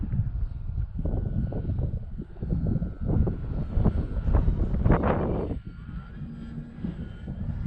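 An E-flite T-28 RC model airplane coming in to land in gusty winter wind, its electric motor a steady low drone under heavy wind buffeting on the microphone.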